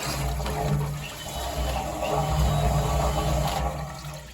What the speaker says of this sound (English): there's our second flush right there.